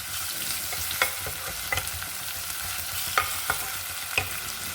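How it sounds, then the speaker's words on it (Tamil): Ginger, garlic and onion sautéing in a pan for peas pulao, with a steady soft sizzle broken by a few sharp scraping stirs of a utensil against the pan, close and without talk. "இஞ்சி பூண்டு வெங்காயம் எல்லாம் நல்லா வதங்கணும்"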